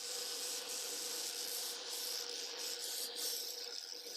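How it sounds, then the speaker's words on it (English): A metal tool end is rounded off on a sander in a metal shop, giving a continuous, fairly quiet abrasive hiss and grind, steady throughout without speech. "I'm going to round this off in the sander and try to create that little shape we need"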